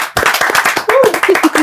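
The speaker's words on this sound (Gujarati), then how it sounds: "a great round of applause for કૌશાંબી બા" Audience applause for Kaushambi Ba at an event for the award-winning Gujarati film Chhaatar: a brief burst of dense, close clapping with a voice talking over it.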